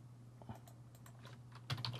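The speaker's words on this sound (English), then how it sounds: "I type here" Keys on a computer keyboard are tapped in a quick, irregular run of soft clicks, close and quiet, with a low steady hum underneath and no speech.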